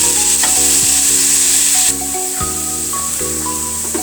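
Carrot and potato bhaji fries in a pan with a steady, close sizzle, broken by a few stirring scrapes along the way. No one speaks.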